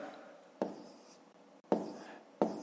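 Numbers are handwritten during a school long-division maths exercise, heard as faint pen strokes and scratches on paper with three brief taps as the pen lands, close up and quiet, with no talking.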